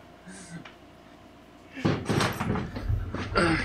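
Knocking or door noises in a home arrive in a burst of several knocks and thumps after a quiet stretch, fairly loud and close, mixed with a voice in the background.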